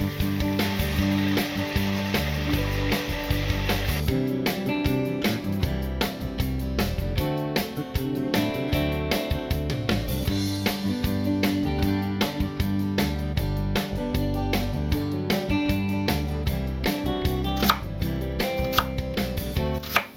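Beef steak fries in a hot pan, a loud continuous sizzle and crackle with dense irregular pops and spatters holding steady throughout, alone without talk.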